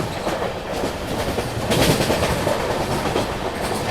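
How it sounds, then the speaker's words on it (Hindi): Duronto Express train wheels clatter rhythmically on the track in a loud, close, continuous rumble with rattling carriages, no voices heard. "जबरदस्त ट्रैक साउंड"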